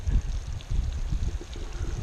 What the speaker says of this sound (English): Directly up from the fire pit, you got the creek.